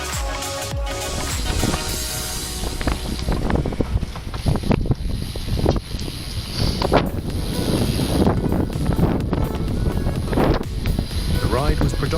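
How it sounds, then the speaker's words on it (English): Gusting wind roars and buffets the microphone while cycling south along bike paths, the noise rising and falling in waves with no clear talk. "The wind was starting to increase the further south we went."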